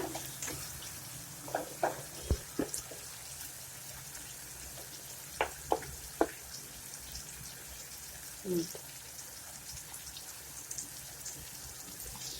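Chopped tomatoes fry in a pan with steady soft sizzling and crackle, punctuated by a few sharp clicks and pops from stirring, close and moderately quiet, with no speech.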